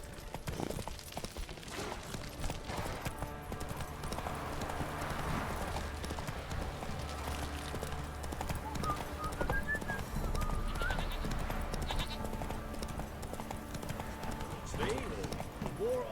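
Roach, a horse in Witcher 3, gallops with a steady clip-clop of hooves amid game ambience, while a voice talks over it throughout.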